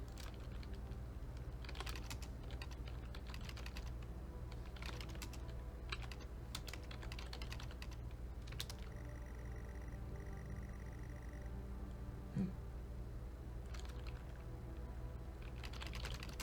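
Game-generated keyboard typing clicks in the video game Stories Untold, imitating a clicky keyboard: steady bursts of rapid keystrokes over a low hum, pausing briefly between runs, with faint electronic beeps midway.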